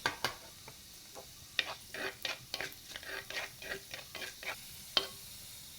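A traditional ladle stirs garlic and shallots in a pan for a fish curry, giving irregular scraping clicks and taps over a soft frying sizzle, fairly faint and close with no voices.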